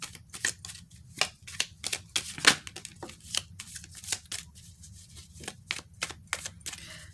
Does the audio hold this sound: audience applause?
no